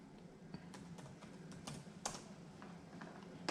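Fingers tap out a search on a computer keyboard, soft rapid clicks with a few louder strokes over a low room hum, quiet and nearby.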